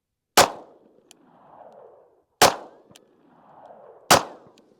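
Three sharp 5.7x28 handgun shots fired at slow, even intervals about two seconds apart, each a loud close crack followed by a brief ringing echo and quiet gap.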